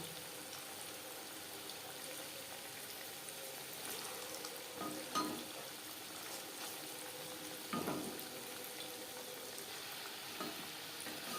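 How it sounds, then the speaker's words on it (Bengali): Bengali moong dal puli frying in a pan: a soft, continuous sizzle at close range, broken by a couple of brief scraping stirs, with no voices. "একটা সাইড ভাজা হয়ে গেলে অপর সাইডটা উল্টে দেবে যেহেতু মুগ ডাল রয়েছে"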